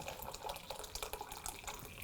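Boiling water poured into a pan for tofu and pak choi miso soup, a continuous splashing, gurgling stream, close and steady throughout, with no talking.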